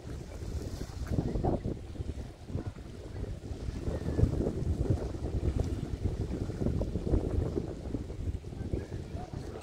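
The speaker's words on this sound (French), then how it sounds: "il y a un bon petit vent" Steady wind buffeting the microphone at sea off Fouras, a continuous low rumble with gusts rising and falling, with water and boat noise mixed underneath.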